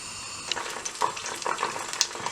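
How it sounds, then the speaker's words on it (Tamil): Hot oil sizzles and crackles in a pan, with scattered small pops over a soft steady hiss. "இங்கே பாருங்க, எண்ணெய் கொதிச்சு கொண்டு இருக்குது."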